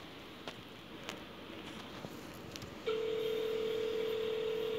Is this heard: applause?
no